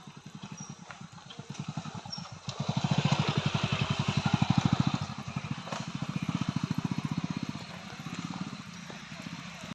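A vehicle engine approaches along a flooded road. Its puttering beat grows louder partway through, stays steady, then eases off, with faint background noise.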